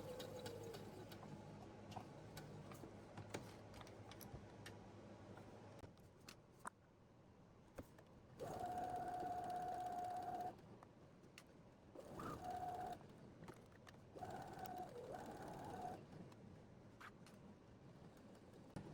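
A sewing machine with a universal size 12 needle stitches fabric for a small tissue cover, pivoting at a corner. It runs in three short bursts of steady motor whine, with quiet pauses between them.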